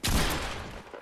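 Burst of gunfire in Fortnite while tunneling, a loud, dense volley of rapid shots that starts abruptly and decays over about a second, with no talk.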